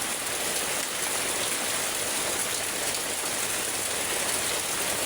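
Steady rain pours down during a long, unbroken spell of wet-season weather, a dense, even hiss of falling water holding at constant loudness from start to finish with no pauses and no voices.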